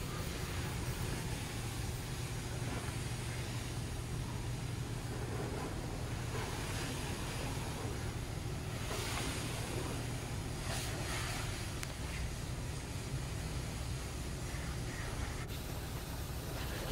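Gusty wind buffets the microphone at an outdoor self-serve car wash, a steady broadband roar with spray hissing throughout, loud and continuous for the whole stretch with no talking.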